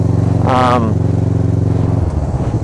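A motorcycle engine shifts gears without the clutch, giving a brief sharp rising rev over a steady close engine hum that drops in pitch near the end; a voice is faintly present.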